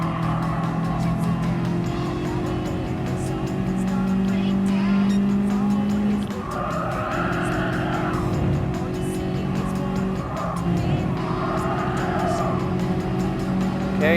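A Honda Beat kei car races in Gran Turismo Sport, its small engine droning steadily at high revs with pitch shifts at gear changes and occasional tire squeal from other cars.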